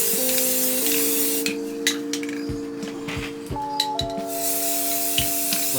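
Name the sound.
spray painting a Chevy Silverado toy truck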